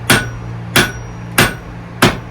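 A blacksmith hammers out the tip of an iron plant hanger on an anvil, four sharp ringing blows at an even pace, close and loud over a low steady hum.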